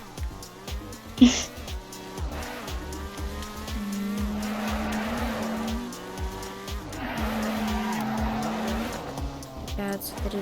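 A maxed-out car fitted with nitro drifts in the Roblox game Car Crushers 2, its engine droning steadily while the tires squeal in long skids, starting with a sharp knock early on.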